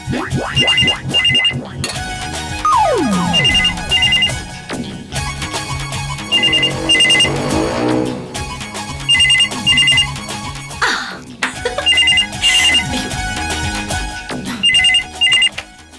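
A phone ringtone rings repeatedly in a melodic electronic pattern, loud and close, with short pauses between bursts and no talking.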